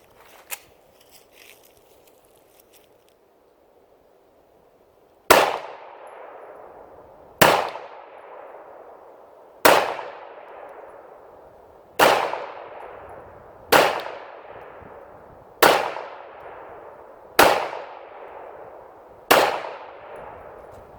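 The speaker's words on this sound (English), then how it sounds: "I am shooting federal aluminum case ammunition." A Rock Island Armory 1911 pistol firing Federal aluminum-case ammunition at a target on a range: nine loud, sharp shots at a steady pace of about one every two seconds, each with a decaying echo.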